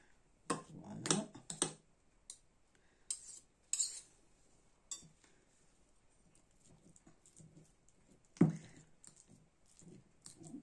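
A knife cuts through avocado on a board, giving a few sharp taps and scrapes, clustered early then spaced out, close and fairly quiet against a still background.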